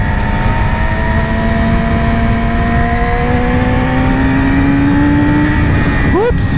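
A 2020 Yamaha R6 sport bike revving hard past 9,000 RPM on a twisty mountain road, a loud high-pitched engine wail climbing steadily under constant wind roar before easing off near the end.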